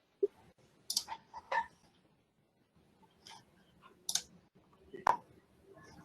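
An unmuted microphone in an online webinar picks up scattered sharp clicks, a few isolated taps with quiet gaps between them against faint background noise.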